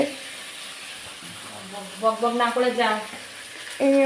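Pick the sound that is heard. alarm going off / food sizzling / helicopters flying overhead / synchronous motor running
food sizzling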